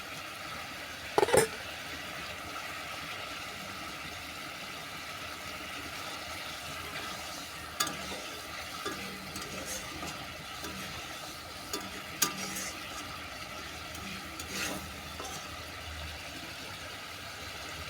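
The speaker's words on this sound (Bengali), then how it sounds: "সর্ষে বাটা দিয়ে আরও 2 মিনিট ফুটিয়ে নিচ্ছি।" Egg curry gravy thickened with white mustard paste bubbles softly in a pan, a low steady simmer with faint sizzle, broken by a few brief clinks and stirring knocks.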